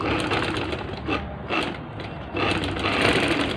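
Sewing machine stitching a ladies' shirt, a close, loud continuous mechanical whir with brief dips and restarts, no voices.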